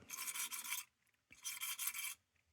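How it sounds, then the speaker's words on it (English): An abrasive pipe-cleaner brush scrubs rust off an old lantern in two bursts of harsh, close rasping strokes, with a short quiet gap between them. "This is a pipe cleaner that's got a little bit of a abrasive brush in it."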